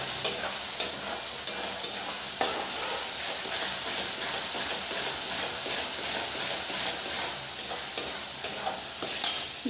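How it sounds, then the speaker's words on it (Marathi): Phodni tempering spices sizzle in hot oil as a spoon stirs them in the pan, with a steady hiss broken by periodic scraping knocks that cluster at the start and end. "आता ही फोडणी छान आपण एकसारखी परतून घेणार आहोत,"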